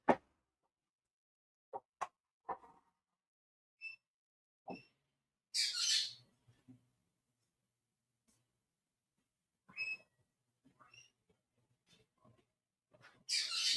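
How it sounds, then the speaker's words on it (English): Birds squawk outside in short scattered bursts, harsh calls and sharper clicks separated by silence, fairly close and loud at times, with no talking. "The birds don't like Reggie."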